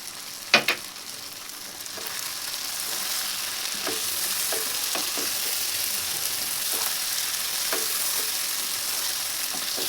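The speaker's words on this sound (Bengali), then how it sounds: "আর একটু ভেজে নেবো নেড়ে চেড়ে।" Chicken frying with ginger-garlic paste, salt and cumin powder sizzles steadily at a moderate level, broken by occasional spoon scrapes and stirring clinks, with no voices.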